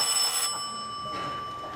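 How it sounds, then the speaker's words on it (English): A telephone rings as a sound effect in a live radio theater staging of It's A Wonderful Life, a steady electronic trill in a short burst that fades after about half a second, with faint room tone and no talk. "and just a minute, George, there's a call for you"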